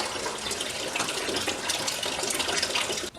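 Water runs through a Ryobi 1600 psi, 1.2 gpm electric pressure washer as its air is bled out, a steady close hissing gush that cuts off sharply just before the end.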